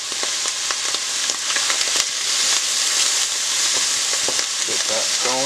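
Salted butter melts in a hot pan for a creamy mushroom soup, crackling and sizzling steadily at close range with scattered sharp pops and a light scrape or two, no speech.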